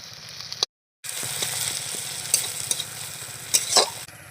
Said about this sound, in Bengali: ঘিটা দিয়ে দিলাম এবার একটু নাড়াচাড়া করে নিচ্ছি যাতে